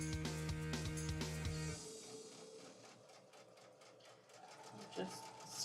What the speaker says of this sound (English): Just sewing these up one by one.